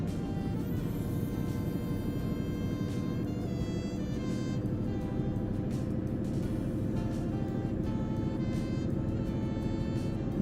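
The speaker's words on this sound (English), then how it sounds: "you can hear his engine fucking churning it out, trying its hardest to keep up." A heavy truck engine in Euro Truck Simulator 2 drones steadily as it labours up a hill, a continuous loud low rumble with a rough, strained texture and no pauses.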